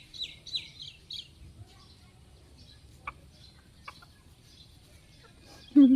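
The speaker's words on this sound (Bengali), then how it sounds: "মুরগি" Chickens cluck and chirp in a rural Bangladeshi village yard, a few short bursts early on and scattered calls after, fairly faint over a low background rumble, with a louder close sound at the very end.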